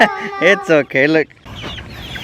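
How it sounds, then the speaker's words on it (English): Several loud, close chicken clucks in a quick sequence, followed by a softer bird cackle, with a person speaking briefly. "Come here, little chickens."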